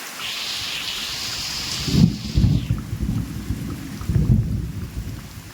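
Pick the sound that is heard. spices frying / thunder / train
thunder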